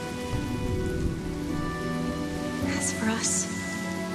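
Steady rain pours onto surfaces in the video game Honkai: Star Rail, a constant hiss and patter running throughout while a voice speaks over it and a soft musical tone sounds.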